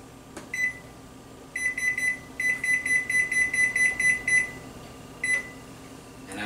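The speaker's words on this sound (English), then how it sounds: "I'm going to go ahead and set our timer here." A kitchen timer gives a few single beeps as buttons are pressed, then a quick run of about ten evenly spaced electronic beeps and one last beep. The beeps are clear and close, with no talking.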